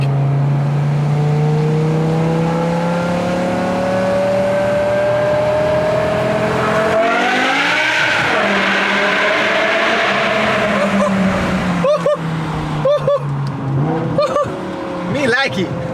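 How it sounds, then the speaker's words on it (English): A BMW E60 M5 with its V10 and an aftermarket exhaust while driving, engine droning and rising in pitch as it revs up through the gears, loud and continuous from inside the car, with brief voices near the end. "I'm gonna get you guys some more exhaust clips"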